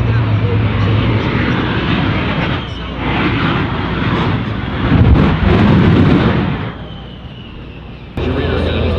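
The Shockwave jet truck's engines roar loudly and close at the Miramar airshow, a thick, continuous blast with surging peaks and a brief drop before the roar returns, while an announcer talks over it.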